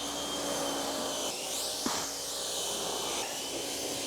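A steady hissing spray rinses a car outdoors in the snow, a continuous broadband rush of water that rises and shifts slightly in the middle, with a brief thump and no talk.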